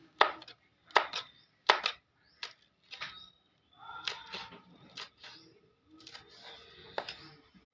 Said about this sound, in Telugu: కాయలు సన్నగా అయితే తరగాలండి ఆమ్లెట్కి వచ్చేసి